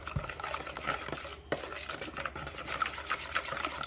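A dipper stirs and scrapes through thick pumpkin and peanut butter dog treat batter in a bowl, giving soft, irregular wet clicks and taps close by, with no talking.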